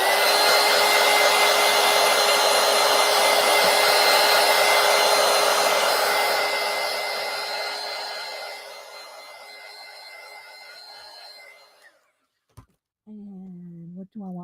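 A hair dryer blows steadily and loudly to dry a painted Gelli plate print, holding a continuous whoosh for about twelve seconds before winding down and cutting off, followed by a few faint clicks and knocks.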